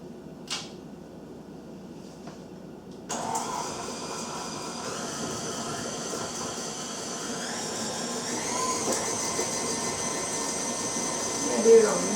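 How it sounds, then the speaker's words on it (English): A stand mixer with a whisk attachment creams butter and sugar, starting after a few quiet seconds with a steady whirring hum that builds slightly, with faint clicks and clatter. "mix together our butter and sugar using our stand mixer"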